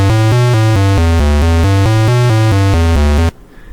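Run-on 8-bit synthesized square tones made in Audacity, a steady melodic sequence of about a dozen notes with no fade between them, each note sustaining straight into the next, loud and buzzy, then cutting to near silence at the end.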